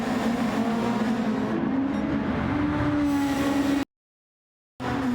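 Video-game F1 cars race through a corridor of engine whine, with a sustained high pitch that rises as one car passes close. The sound cuts out briefly near the end, then resumes.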